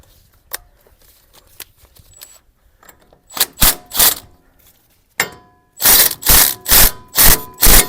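A lug nut is spun by hand onto the axle of a 2006 Nissan Frontier hub, sparse metallic clicks at first, then a rapid run of loud, close ratcheting bursts in a steady rhythm toward the end.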